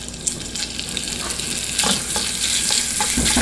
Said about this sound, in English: get your pork, place it in a pan,